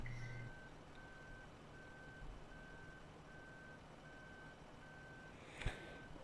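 A vehicle's reversing alarm in the farming game Farming Simulator 15, evenly spaced electronic beeps repeating over a low engine hum, with a brief clunk near the end.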